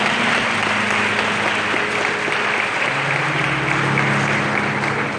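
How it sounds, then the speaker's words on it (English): A crowd at a sorority student achievement event applauds steadily and loudly throughout, a dense, continuous clapping with no break. "Give her another round of applause."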